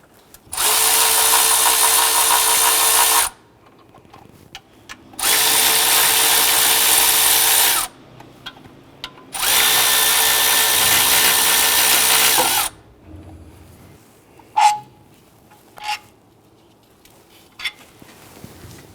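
A power tool whirring in three long, loud bursts to remove the last bolt of the power steering pump on a 2007-2014 Cadillac Escalade 6.2L V8, followed by a few metallic clinks.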